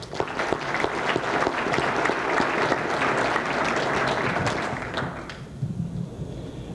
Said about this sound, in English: I'd like to give you, lead you in a round of applause for her also